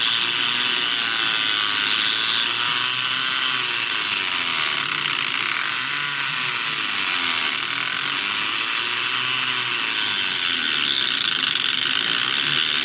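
An engraving hammer handpiece runs slowly, giving a dense, steady buzz of tiny rapid strikes, loud and close with a bright metallic texture and no talking.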